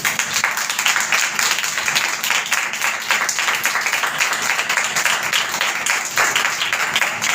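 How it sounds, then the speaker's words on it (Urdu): Audience applause fills a classroom-style gathering, a steady dense patter of many hands clapping continuously at moderate loudness with no voices over it. "اپنے لیے تالیاں بجائیں گے"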